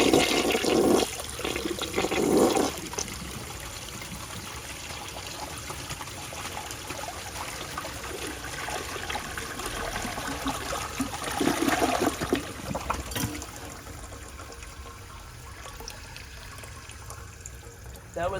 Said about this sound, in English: So let's go to flush and see how it does on tests.